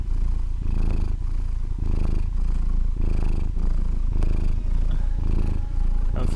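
A house cat purrs up close and loud, a steady rhythmic rumble repeating in even breaths for several seconds, with no talking over it.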